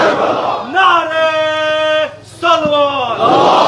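A large gathering at a religious address in Kashmir raises a slogan, a leader's drawn-out chant answered by loud massed voices in unison, two strong phrased shouts with a brief pause between, echoing in a hall-like space.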